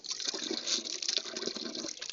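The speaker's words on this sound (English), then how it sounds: "So it's going to have a little water dripping and such." Water running and trickling from a Woodford 19 outdoor faucet being repaired for a leak, a steady close splashing flow throughout with no speech.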